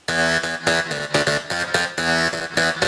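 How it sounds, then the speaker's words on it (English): A bright synth lead with an LFO Tool pump, chords ducking and swelling in a steady rhythmic pulse, loud and upfront with no voices. "again, I'm using the LFO tool for the pump effect,"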